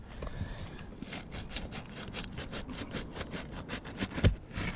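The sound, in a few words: trowel cutting tar line under asphalt roof shingle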